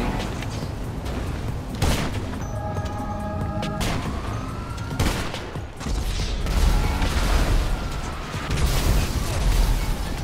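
Rocket launcher blasts in GTA Online come as several heavy booms spaced a second or two apart, mixed with a wailing police siren and a deep, continuous rumble of chaos.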